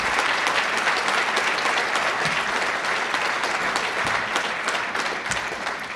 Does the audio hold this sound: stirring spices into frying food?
no